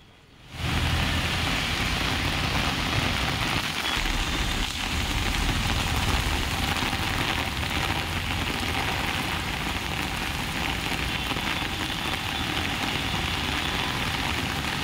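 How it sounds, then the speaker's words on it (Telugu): Heavy rain pours down across Hyderabad in a dense, steady roar that starts abruptly and holds loud and even throughout, with no voices. "హైదరాబాద్లో భారీ వర్షం కురుస్తోంది."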